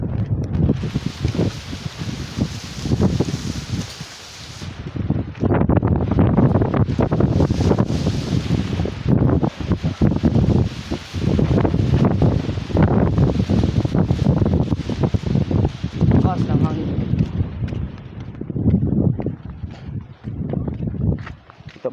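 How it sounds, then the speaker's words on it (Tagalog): Strong gusty wind blasts across the microphone beside open water, roaring and buffeting in waves for the whole stretch, with occasional lulls and no clear voices. "Lakas ng hangin"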